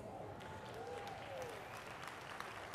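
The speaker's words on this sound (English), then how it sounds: "You can clap, it's okay." An audience claps steadily for a few seconds, a dense continuous patter of many hands.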